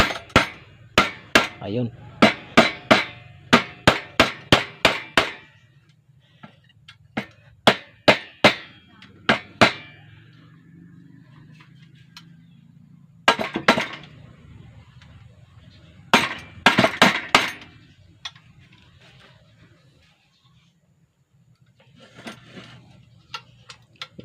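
Metal hammering on a soya splitter machine, sharp bursts of rapid clanking strikes close by, separated by pauses with a low hum and brief speech.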